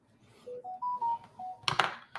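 Larry's phone sounds a short rising and falling sequence of electronic beep tones, followed by a few soft clunks and rustles, close and fairly quiet.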